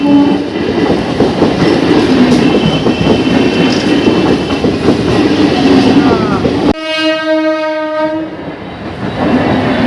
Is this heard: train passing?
yes